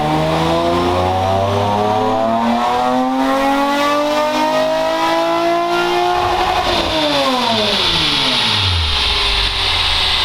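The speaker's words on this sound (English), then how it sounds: "I hear the VTEC about 45." A Honda VTEC engine with a bang-for-buck horsepower modification revs hard, its rising pitch climbing steadily before dropping off and falling back down, loud and close with no talking.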